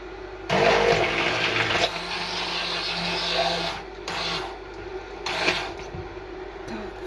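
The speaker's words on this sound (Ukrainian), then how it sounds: "Зараз беру блендер, переб'ю." A kitchen blender purees fried beans into a pâté in short loud bursts, one long whirring run followed by two brief pulses, with quiet pauses between and no talking.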